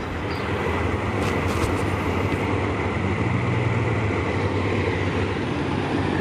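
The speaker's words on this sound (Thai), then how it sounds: "นี่คือ รถจักรนะฮะ ในตำนานนะครับ" A railway locomotive, number 4044, rumbles steadily at a distance in the Bang Sue rail yard, a continuous low mechanical drone with no voices.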